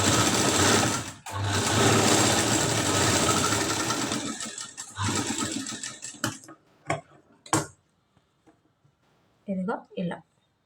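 A sewing machine stitches the front dart of a katori blouse, running in a steady loud whir for several seconds, then stopping and restarting in short separate bursts.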